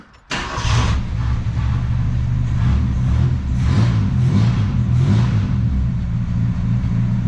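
A 1972 Ford Pinto with a rebuilt Motorcraft carburetor fires up and runs loud and close, settling into a strong steady idle with a few gentle revs, nobody talking.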